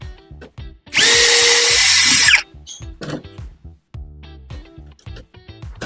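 A power drill whirs loudly for about a second and a half while backing screws out of a TV during an at-home repair, surrounded by close clicks and small handling knocks.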